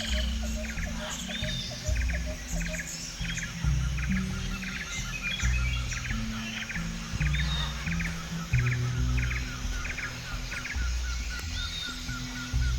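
Birds sing and chirp steadily through a park at Konoko Falls in Ocho Rios, Jamaica, with repeated bright tweets, some near and some farther off, over a low rumble of background activity.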